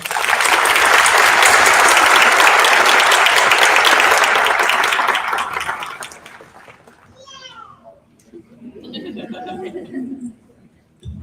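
At an online college commencement ceremony, an audience applauds the commencement speaker. Loud, dense clapping runs for about six seconds and then fades away, leaving quiet background sounds and faint voices.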